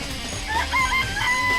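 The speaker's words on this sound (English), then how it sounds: "I remember there were some chickens in the chicken coop." Chickens in a coop in the game Danganronpa cluck and warble briefly, a short close burst of fowl calls over a buzzy background.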